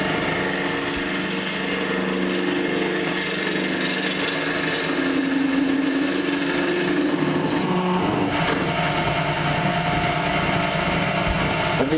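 A lathe turns a piece of firewood as the gouge peels off shavings, a loud, continuous close-up scraping whir with a brief clunk near the end.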